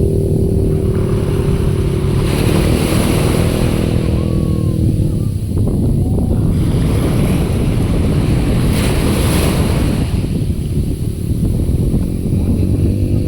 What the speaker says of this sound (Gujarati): તો ગાઈસ મોજા ફૂલ આવે છે